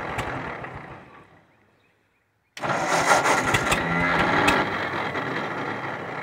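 A flooded Ford 660 tractor engine sputters and winds down into silence, then catches abruptly and runs loud and close with an uneven, rough chugging idle.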